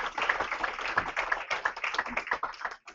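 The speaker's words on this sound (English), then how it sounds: "Give Luke another nice big round of applause" A small audience claps at a Featherstone Rovers squad number announcement, close, individual hand claps in a brisk, uneven patter that briefly drops out near the end.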